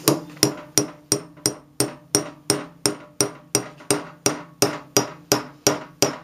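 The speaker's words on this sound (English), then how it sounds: "You take a small hammer and just start tapping it through." A small hammer taps metal tubing through to form little pivots, striking about sixteen sharp, evenly spaced metallic blows at a steady rhythm, close and clear with no talk.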